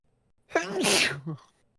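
One sharp, close human sneeze bursts out briefly and loudly against near silence.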